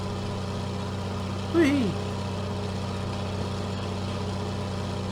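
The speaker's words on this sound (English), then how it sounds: "is this a Detroit engine or what, but oh man, it sounds good. Proper big growly diesel" A big, growly Detroit diesel engine idling with a steady, deep rumble throughout, while a voice briefly calls out an excited whoop.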